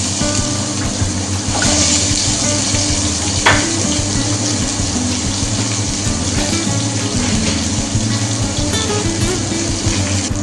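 Cumin seeds and onion fry in hot oil in a pan for bhuni khichuri, a loud continuous sizzle with a few stirring clinks, close and unbroken, no voices.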